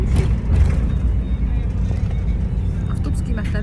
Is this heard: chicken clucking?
no